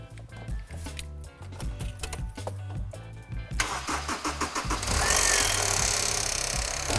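Honda S2000 engine cranking and firing up, with a rhythmic starter churn giving way to a loud, steady idle carrying a possible timing chain rattle, close by and without talking.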